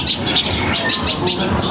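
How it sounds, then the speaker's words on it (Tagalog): Small birds chirp in quick repeated high tweets over a steady background hiss, fairly close and continuous throughout. "May maliliit na ibon dito."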